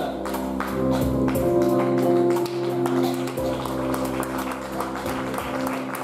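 An audience at a beauty pageant, Miss Beauté Franche-Comté 2019, claps for a candidate, with light, scattered applause over steady background music.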